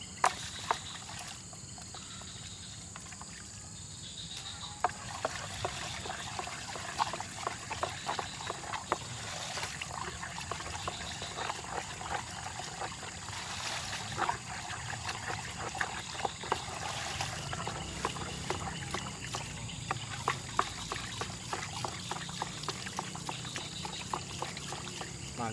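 A liquid mixture for clearing weeds in a sugarcane field being stirred, with steady close sloshing and trickling punctuated by frequent small knocks and splashes.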